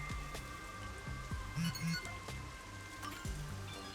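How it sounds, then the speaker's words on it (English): Rain in the video game Master Detective Archives: Rain Code, a steady patter of drops on surfaces with occasional brighter plinks and soft game tones layered over it, moderate in level and without speech. "The rain just won't stop, huh?"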